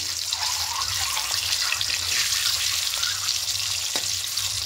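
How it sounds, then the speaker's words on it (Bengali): An egg fries lightly in a pan with salt, giving a soft, steady sizzle with faint spattering and a small clink, heard alone without any talk. "লবণ দিয়ে ডিমটাকে হালকা একটু ভেজে নেব"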